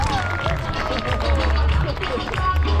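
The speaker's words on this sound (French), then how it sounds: "On les applaudit très très fort" An audience claps loudly for stunt performers at a car stunt show in Amilly, with crowd noise and a voice talking over the applause.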